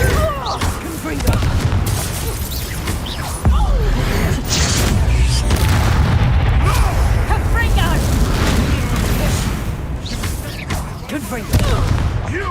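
Repeated Confringo fire spells in Hogwarts Legacy, heavy booming blasts and crackling bursts that keep coming over a dense battle din, with a voice shouting over the fighting.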